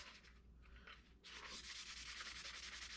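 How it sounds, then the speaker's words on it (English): A soft sanding block scuffs a glossy 3D-printed cosplay prop with a steady, rapid back-and-forth rasping, quiet and close, briefly pausing before resuming strokes. "So first things first, I'm gonna try to scuff it up a little bit."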